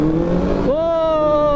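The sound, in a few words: Benelli TNT600i motorcycle engine with stock exhaust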